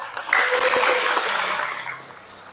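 A short burst of clapping from a small audience at an Islamic religious lecture, rising quickly then fading out over a couple of seconds.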